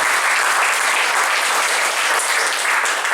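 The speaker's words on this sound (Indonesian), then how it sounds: "Tepuk tangan teman-teman." At a business seminar event, an audience breaks into loud, sustained applause, a thick, even roar of clapping hands throughout.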